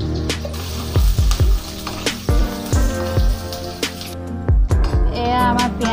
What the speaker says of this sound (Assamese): এতিয়া পিঁয়াজটো অকণমান ৰঙচুৱা হোৱাকৈ ভাজিব।